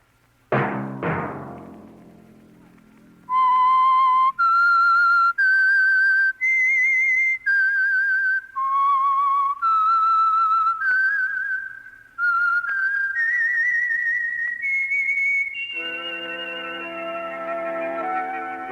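Whistled signature theme of The Whistler, a Signal Oil radio mystery program: a solo, clear, wavering melody carries alone for about twelve seconds after two sharp opening thuds, then gives way to a sustained orchestral chord.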